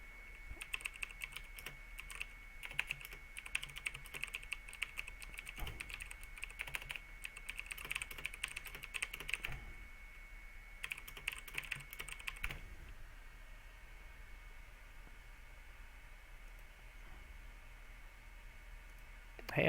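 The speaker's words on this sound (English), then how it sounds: "I'm not just repeatedly typing GG into the chat." Fingers type quickly on a computer keyboard during an online Dominion card game, producing rapid, soft clicking bursts with short pauses, close but quiet, followed by several seconds of near silence.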